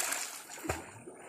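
A woman bathing with plentiful water, a single close splash rising out of a steady background of running, sloshing water.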